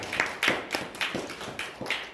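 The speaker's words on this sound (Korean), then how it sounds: "우리 홍덕희 자매님에게 박수. 축복합니다. 박수 쳐주세요." A church congregation claps for sister Hong Deok-hee, a quiet sparse run of about eight separate claps at a steady pace, with no voices over them.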